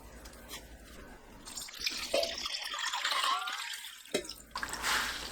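A mesh bag of malt is kneaded and squeezed by hand in water for sikhye, giving soft, close sloshing and dripping sounds that rise and fall irregularly.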